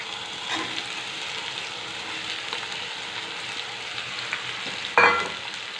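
Bitter gourd and potato pieces sizzle and crackle in hot oil in a home kitchen, a steady close frying hiss with occasional stirring scrapes and a sharp clatter near the end.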